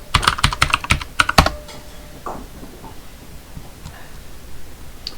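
Rapid bursts of close computer keyboard keystrokes clatter in quick succession, then thin out to a few scattered taps over a quiet room background.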